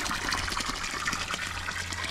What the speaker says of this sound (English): This water literally comes from a mountain, just like that.